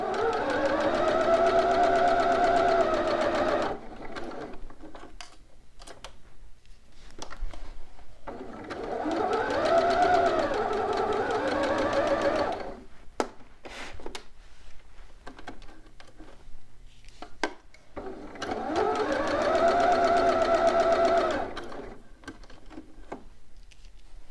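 A home sewing machine stitching a dress bodice in three separate bursts of steady whirring, each lasting a few seconds with quiet pauses and small clicks between them, close and clear.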